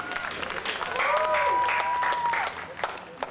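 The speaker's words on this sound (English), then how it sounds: "You can clap for that" Applause from a crowd at a 9-12-09 Tea Party rally, a dense wash of clapping that swells and holds for a couple of seconds, with a voice and a whistle-like tone rising over it before it thins out.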